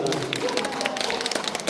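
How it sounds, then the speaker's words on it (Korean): A brief burst of dense applause from an audience at a Buddhist dharma assembly, welcoming a senior vice-president to the front; steady, close clapping fills the whole moment with faint voices mixed in. "박수로 맞이해 주시기 바랍니다."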